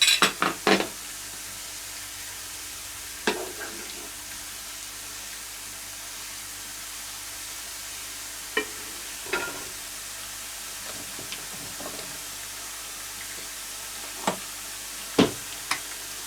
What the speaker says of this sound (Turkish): keş peyniri koydum. Bunu biraz kavuralım.